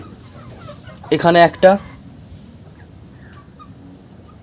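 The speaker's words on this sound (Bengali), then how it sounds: "এই যে মুরগিগুলো আমার খামারের, তো এগুলো হচ্ছে আমার প্যারেন্টস সোনালি মুরগি" Sonali parent-stock hens on a poultry farm let out a couple of short, close clucks in quick succession mid-clip, against a quiet morning background, with a few spoken words nearby.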